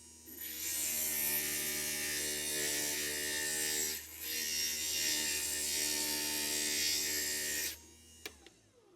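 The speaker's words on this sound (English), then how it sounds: "I think I'm going to want to grind this one down just a little bit more." Glass piece being ground on a small electric glass grinder, a steady high-pitched whine with a brief dip partway through, running continuously up close before cutting off near the end; no talking.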